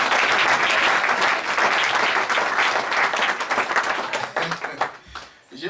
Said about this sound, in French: Non, une acclamation.